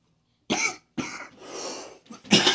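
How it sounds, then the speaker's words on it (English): Several harsh coughs in a row from one person nearby who has a cold, with short gaps between them and a throaty rasp. "Sorry, coughing."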